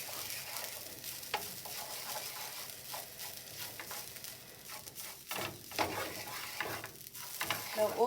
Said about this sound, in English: we're going to constantly turn or saute our shredded coconut for about 5 minutes